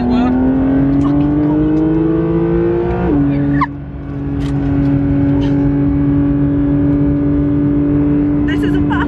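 A race car at an FIA racetrack revs hard and loud nearby, its engine note climbing steadily, dropping sharply on a shift, then holding a high sustained drone, with voices talking over it.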